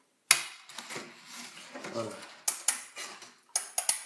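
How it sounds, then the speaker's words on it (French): Scissors snipping through mosquito net mesh while making a cricket egg-laying box, a series of short sharp clicks and crisp cuts close up, with a voice speaking briefly between them. "Donc il faut des ciseaux qui coupent bien"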